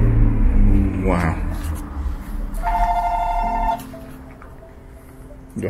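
A telephone rings in a plant shop, giving a short electronic ringing burst over room rumble and background chatter.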